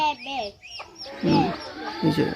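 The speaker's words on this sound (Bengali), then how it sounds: "এটা কিন্তু খুব ভয়ঙ্কর মুরগি" A fierce hen with her chicks gives short clucks and calls up close, and a person speaks briefly between them.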